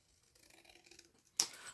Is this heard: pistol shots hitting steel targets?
no